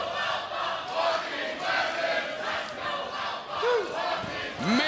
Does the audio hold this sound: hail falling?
no